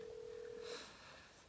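A telephone tone sounds as a call is placed, a steady electronic beep lasting under a second over a faint background hum, with no voices.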